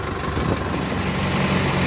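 A tractor's engine and a JCB's engine, the JCB in very poor condition, rumble at a steady idle close by during loading at roadwork under a bridge. The loud, even drone is broad and low.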